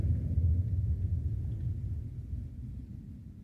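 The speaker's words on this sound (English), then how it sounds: "But that military aircraft. It's not a public transportation airline." Distant military aircraft rumbling overhead, a low, deep drone that is loudest at the start and slowly fades, alone with no talk.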